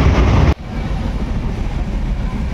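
A steady low rumble of a train running on tracks, heard from inside, following a brief louder burst at the start.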